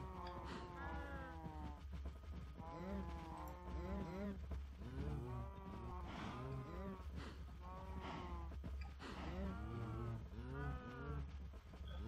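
Several Minecraft cows moo in turn, long low drawn-out bellows repeating every second or two, overlapping at times, fairly close and clear over a steady low background hum with no talking.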